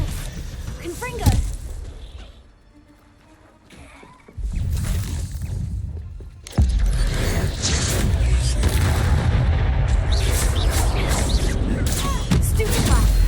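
Confringo explosion spells cast in the Hogwarts Legacy video game, with booming blasts and crashing impacts that quiet briefly and then swell into a sustained loud clamour of repeated explosions, mixed with voices.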